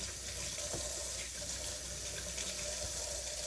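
Cold water runs from a kitchen tap as freshly picked garden green beans are rinsed at the sink, making a steady, even splashing hiss with no pauses.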